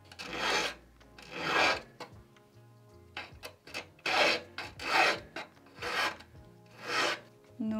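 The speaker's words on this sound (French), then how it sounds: "je vais venir donc casser les angles avec la lime" Metal file rasping the corners of a gold-filled ring plate, a run of loud, close, rhythmic back-and-forth strokes with brief gaps between them, no speech.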